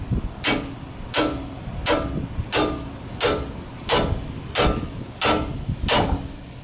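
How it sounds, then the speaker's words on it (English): A hammer drives a worn ball joint out of a 1997 Ford F-150 control arm, eight sharp metallic blows landing at a steady, even pace, close and loud. "we're gonna hammer it in until it pops out"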